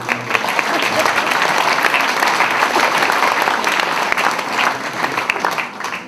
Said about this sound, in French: On peut les applaudir pour avoir